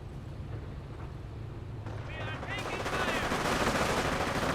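Rifle squad gunfire in Company of Heroes, the battle rattling with rapid bursts and a brief whistling tone midway, growing louder and denser toward the end.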